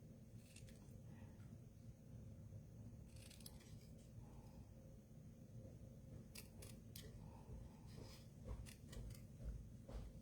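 Faint, scattered snips of scissors cutting paper, a few quick clusters over a steady low hum with long gaps between.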